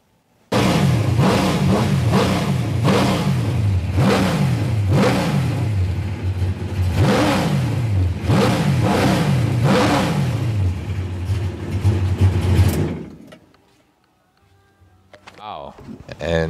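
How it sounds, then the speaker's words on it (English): A Formula 1 car engine revs up hard again and again in loud, rapid rising sweeps for about twelve seconds, then cuts off sharply, leaving faint noise and a brief murmur of voices. "You can see how fast the RPM of that car goes up."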